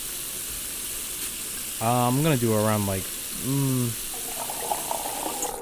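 Cold water pours into a cooking pot for boiling potatoes, a steady rushing splash that runs throughout while a person talks over the middle.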